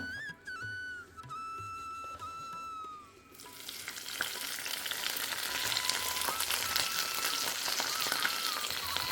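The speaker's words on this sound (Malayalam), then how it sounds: "ഇനി നമുക്കിനി ഇതിലേക്ക് കടുക് താളിച്ച് കൊടുക്കാം" Mustard seeds tempering in hot ghee for a fish curry: after a few seconds of quieter background with a whistling tone, a loud, dense close sizzle and crackle erupts and continues steadily.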